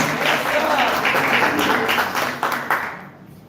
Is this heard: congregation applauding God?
yes